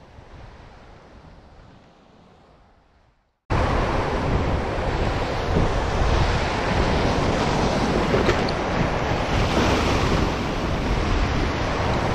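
Sea waves and wind on a beach at a ria, a softer wash of surf for a few seconds, then a sudden loud, steady roar of breaking waves and buffeting wind noise on the microphone, with no voices.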